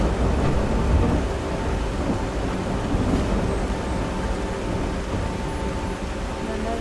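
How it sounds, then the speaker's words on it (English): Heavy thunder and lightning storm in The Last Caretaker, a dense continuous roar of rain and rumbling thunder, loud and steady throughout with no talk. "This is serious lightning"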